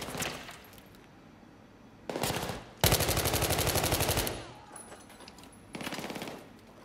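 Gunfight in Battlefield 3 co-op, with short bursts of rapid automatic fire, one long sustained volley in the middle and a final burst, loud and close.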